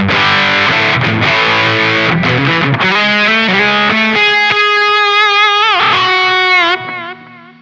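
Electric guitar through the Distortion 1 model of a Zoom MS-50G multistomp, with loud crunchy chords giving way to a bent single-note lead line that holds, then drops away into a short tail.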